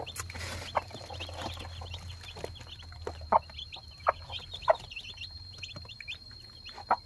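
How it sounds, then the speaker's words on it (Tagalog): Eight chicks peep faintly and continuously near a hen during breeding season. Every second or so she gives a sharper, louder cluck, over a low steady background hum. "Walong sisiw ito."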